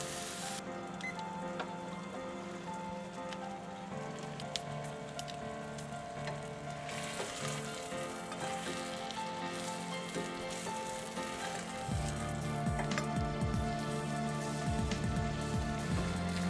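A ribeye steak sizzling in a pan over medium heat, with a continuous crackling hiss, fairly soft, that swells louder toward the end, heard with no talking.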